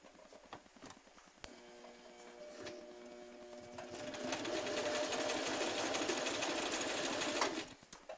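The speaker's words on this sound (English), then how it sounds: "we're kind of sewing through the ruffly part here" Sewing machine stitching ruffle elastic, a few handling taps and a slow start before the motor runs up into a steady, fast, close-up whirring chatter that stops abruptly at the end.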